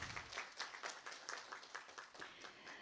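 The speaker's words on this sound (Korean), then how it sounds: "네, 박수 부탁드립니다." Applause from the audience at the opening ceremony of an international symposium on shorebirds and tidal flats in Hwaseong, Korea. Moderately distant, fairly faint clapping that keeps a steady, uneven patter.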